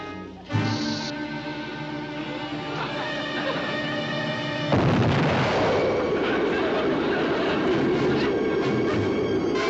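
A fort cannon fires a salute in a comedy Western scene, one loud sudden boom that follows background music and then rumbles and fades slowly.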